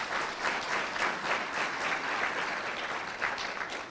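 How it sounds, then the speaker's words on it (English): Audience clapping at an FIU lecture event honoring the board of trustees chair, a steady dense round of applause from a large crowd that holds for the full four seconds. "perhaps you could give him a round of applause"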